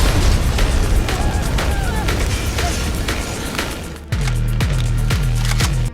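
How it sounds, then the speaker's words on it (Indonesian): Gunfire in an action film scene: a dense barrage of booming shots and bursts, then a steady, evenly spaced run of loud single shots near the end, with no talking. "Nina segera melepaskan tembakan ke arah mereka hingga membuatnya kocar-kacir."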